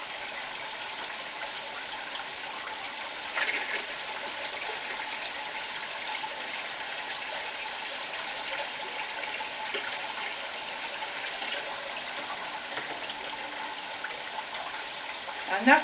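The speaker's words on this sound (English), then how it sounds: "I'm going to put some water in here." Water trickles and splashes as it is poured into a fish transfer tube indoors, a soft, continuous pour with a few brief louder splashes, and no voices.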